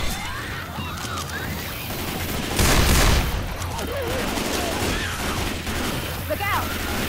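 Gunfire in the zombie shooter Left 4 Dead 2 rattles through a dense, noisy mix with a heavier burst midway, layered over constant game ambience and faint whistling effects.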